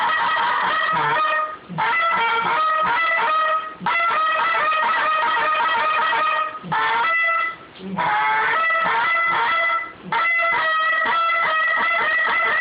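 A handheld hunting goose call mimicking an older goose, blown in repeated loud honks and clucks with brief pauses, low and gravelly in tone, close and sustained.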